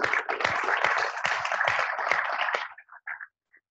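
Audience applauding presenters at a faculty in-service session, a dense burst of clapping for under three seconds that thins into a few scattered final claps.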